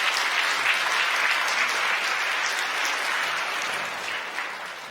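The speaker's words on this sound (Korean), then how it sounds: "박수 한번 보내주시죠" A church congregation applauds during a Sunday worship service at Gyeongdong Church: a loud, sustained wash of many hands clapping that fades slightly at the end, with no talking.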